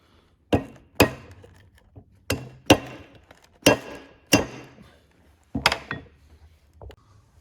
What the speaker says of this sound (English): I've gone all around the snap ring with a hammer and a punch, kind of breaking it loose